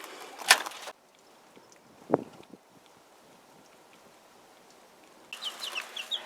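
Chickens give short clucks on a cold farm. The sounds come in brief bursts at the start, the middle and the end, with quiet gaps between them.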